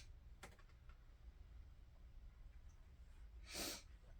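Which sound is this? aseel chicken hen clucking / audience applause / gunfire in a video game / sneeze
sneeze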